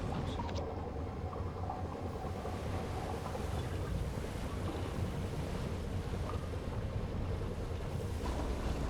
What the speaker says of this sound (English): Diesel engines.